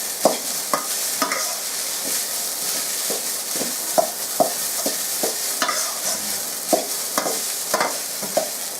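A spatula scrapes and stirs food sizzling in a hot pan during Thai home cooking, with roughly a dozen sharp scraping strokes at irregular intervals over a steady frying hiss. The sound is close and there is no talk.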